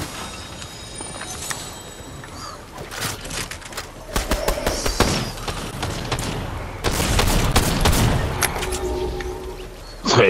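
Gunfire in the Fortnite video game: bursts of rapid shots and impacts that grow denser and louder toward the end, with no talk.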